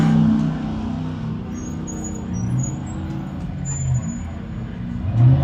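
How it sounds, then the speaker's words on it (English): Off-road race truck at a high desert comp truck race in Powell, Wyoming, rumbles past with a low engine drone that swells and fades, heard at moderate distance without talk. "Here comes Brandon in Charlie Shaw's truck."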